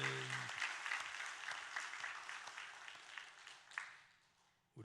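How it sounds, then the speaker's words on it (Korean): A church congregation at an Easter Sunday service applauds in a soft, steady wash of many hands, heard faintly and at a distance before it fades out. "다 같이 한번 큰 박수로 영광을 돌리겠습니다"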